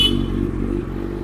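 A Kawasaki Z900 superbike, left standing about ten days, fires up from cold, with a brief burst of engine noise settling into a steady low rumble.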